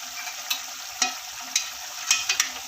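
Utensil scraping and stirring okra pachadi in a pan, with several sharp clinks at irregular intervals over a steady background hiss, no voices.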